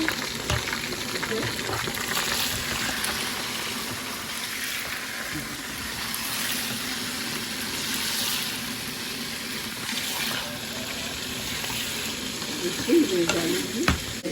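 Chicken sizzles in a pan while being stirred for biryani, a steady close frying hiss with scraping and a few clinks, continuing unbroken throughout.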